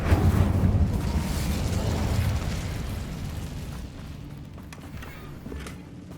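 A fiery burst from the Incendio spell cast in Hogwarts Legacy, a loud whooshing roar that swells at the start and then slowly dies away, with nobody speaking.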